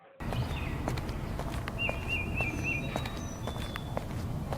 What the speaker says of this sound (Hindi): एक भारी आवाज के साथ सेठ गांव में आता है।